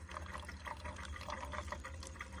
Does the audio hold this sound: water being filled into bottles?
yes